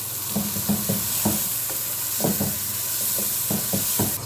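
Onions fry in oil in a pan for a carrot and meat stew, giving a constant loud sizzle with regular scraping stirs and light knocks against the pan, and no speech.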